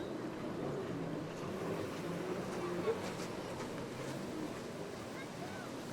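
Aquacross jet ski racing at a pro series round in La Seyne-sur-Mer, France, with the engines making a steady broadband roar over water, mixed with surf and wind noise across the whole span.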